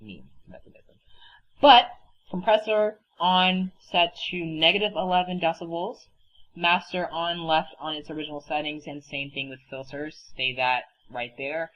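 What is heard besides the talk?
None of the usual background noises is heard.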